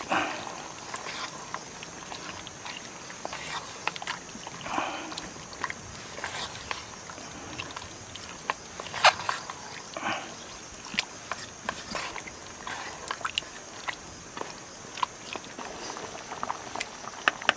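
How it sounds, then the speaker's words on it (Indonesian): Spicy sweet-sour chicken hearts being stirred in a pan, a soft bubbling sizzle broken by irregular light scrapes and clicks of a utensil, fairly quiet and close. "Kita aduk."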